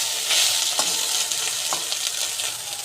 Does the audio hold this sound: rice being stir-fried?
yes